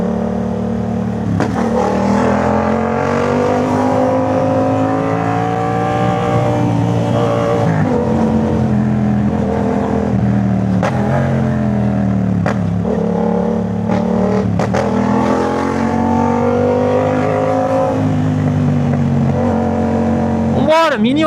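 A Yamaha MT-07 motorcycle with a Jeskap full exhaust runs in traffic, a loud, close engine drone with repeated revs and throttle changes throughout, over a steady rumble.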